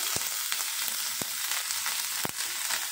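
Chopped ginger frying in a little white cooking oil, a steady close sizzle with a few sharp pops and spatters scattered through, no voices.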